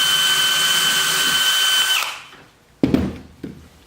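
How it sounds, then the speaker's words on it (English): A power drill pre-drills holes in wood while building a custom game table, whining steadily for about two seconds before spinning down, followed by a couple of short knocks. "Trust me, you want to pre-drill these."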